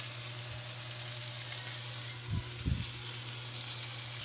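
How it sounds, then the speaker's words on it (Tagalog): Garlic and onion sizzle quietly in hot oil for ginataang kalabasa, squash in coconut milk, a steady low frying hiss with a couple of brief stirring clatters near the middle. "maggisa na tayo ng bawang sibuyas guys para ginataang kalabasa"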